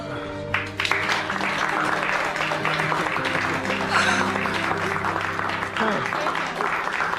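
A large crowd cheers and applauds after a not guilty verdict, sustained clapping and shouting that swells and holds steady throughout, with voices mixed into the din.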